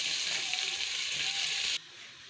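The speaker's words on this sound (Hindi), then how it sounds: "ऑयल हमारा गर्म हो चुका है, प्याज ब्राउन करेंगे।" Onions frying in hot oil for a spinach chicken curry, a steady loud hiss and sizzle that cuts off abruptly near the end to a quieter background.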